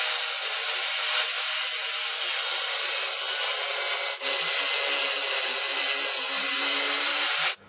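A harsh, steady high-pitched grinding of a drill bit cutting into steel at reduced speed, close and loud, briefly interrupted midway before stopping at the end.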